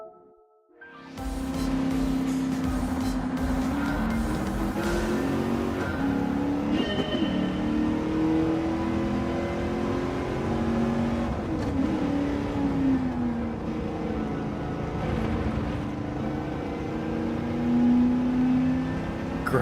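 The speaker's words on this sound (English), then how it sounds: "Nice and torquey engine. Love the Cleveland." A Ford Mustang Mach 1 with its Cleveland V8 in Gran Turismo 7, a loud continuous engine drone that rises and falls in pitch through gear changes and throttle shifts, alone without talk for the full run.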